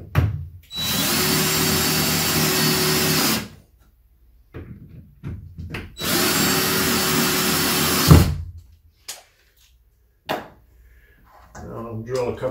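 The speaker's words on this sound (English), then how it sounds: "I'll drill a couple of pilot holes on this side over here" Two sustained bursts of a power drill whirring loudly nearby while drilling pilot holes in wood, each about three seconds, separated by handling clatter and clicks, with a brief voice afterward.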